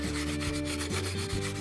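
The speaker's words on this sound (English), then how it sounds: "and now I'm sanding glass" A wine glass being sanded by hand, a steady close rubbing and grinding with rhythmic strokes, heard alone.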